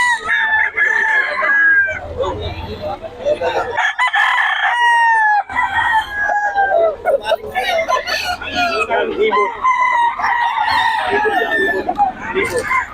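Several roosters crow repeatedly amid steady clucking at a busy poultry market in Bocaue, with people talking in the background throughout.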